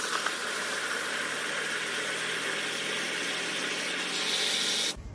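Water pours steadily into a bucket while topping off five gallons of hydroponic nutrient solution, a continuous close rushing splash that ends abruptly.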